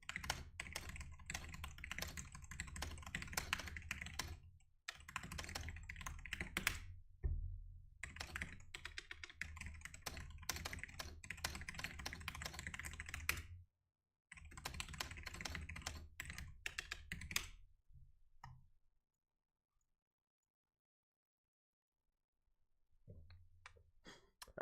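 Steady computer keyboard typing in bursts of rapid key clicks, close and fairly loud, broken by short pauses and ending in a long stretch of near silence, with no talking.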